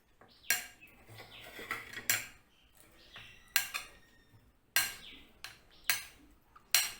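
A spoon clinks against a bowl or pan while stone-ground garlic chutney is stirred into its tempering oil, giving sharp metallic taps in irregular bursts, close and fairly loud, with no talking.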